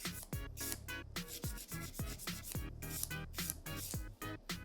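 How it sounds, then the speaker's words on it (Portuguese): An artificial nail having its side walls filed, with quick rhythmic rasping strokes repeating about every half second, close up and fairly soft, with no speech over them. "Vamos limar as nossas paredes laterais,"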